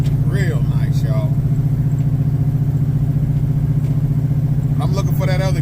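A 1978 Chevy Malibu with a 383 stroker engine and a 350 turbo transmission gives a loud, steady, deep rumble from up close, with voices talking briefly over it at the start and end.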